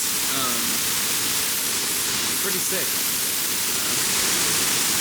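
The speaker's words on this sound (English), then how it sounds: "We made it to some waterfall along the pass." A waterfall along the Hai Van Pass mountain road in Vietnam roars as a dense, steady broadband wash, loud and close throughout, while a person briefly speaks over it.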